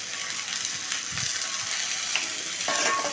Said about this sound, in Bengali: ভালোভাবে 2 থেকে 3 মিনিট একটু কষে নেব, যাতে আলুর মধ্যে মশলাগুলো ভালোভাবে ঢুকে যায়।